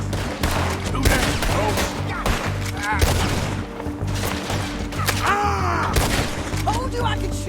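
Gunfire in the Western video game Red Dead Redemption 2: a dense fusillade of loud, close shots cracking in rapid bursts over game music, with characters talking between the volleys.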